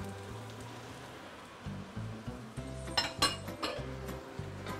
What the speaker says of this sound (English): stir fry your shiitake mushroom